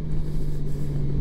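Steady engine drone of a Honda Gold Wing Tour 2021 touring motorcycle, over 380 kg, ridden while leaning hard through a bend, with a constant low hum and wind rush throughout.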